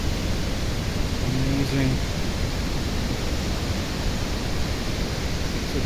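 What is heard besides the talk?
mountain spring water flowing downwards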